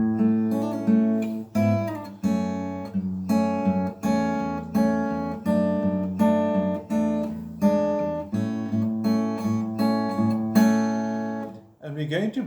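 Fingerstyle acoustic guitar plays the intro of a song: clear plucked notes and chord arpeggios in a steady, gentle rhythm, close and moderately loud, with no talking.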